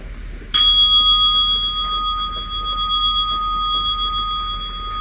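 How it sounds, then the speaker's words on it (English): A single meditation bell is struck once and left to ring, its clear sustained tones fading slowly over several seconds in a quiet room with no talking. "you will hear a bell every 5 minutes"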